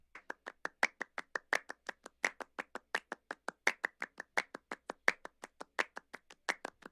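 Layered hand-clap rhythms for Latin percussion interlock into a dense, steady stream of crisp claps, like several people clapping together. Accented hits recur in a driving pattern that runs continuously throughout.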